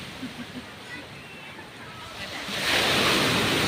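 Strong ocean waves on the shore at Dingalan, Aurora, surf rumbling under wind and light talk, then a heavy wave crashes louder near the end on a rainy day.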